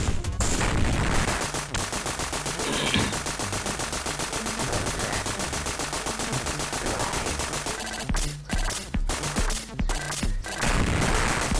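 Dense, rapid gunfire in the video game Contra: Hard Corps, continuous automatic bursts with booms, dropping into short staccato volleys before resuming.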